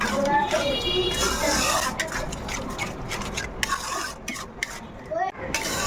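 Spoon scraping and stirring yogurt into a curry in a metal pan, a steady rubbing scrape at close range with soft clinks and faint sizzle underneath.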